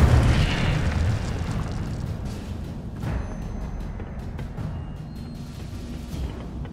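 Incendio fire spell in Hogwarts Legacy, a blast that erupts at the start and then settles into a sustained rumbling, crackling roar that slowly fades.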